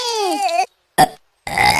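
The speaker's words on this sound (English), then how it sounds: "You burped." A cartoon baby burps in a short, loud, isolated belch, set between a gurgly babbling voice before and a brief giggly sound after, from a Peppa Pig episode.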